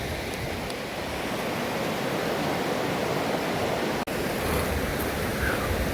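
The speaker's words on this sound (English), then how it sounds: "I know the river's going to be loud" A loud river rushes steadily nearby as a broad, unbroken roar of water, with one brief dropout near the end and no talking.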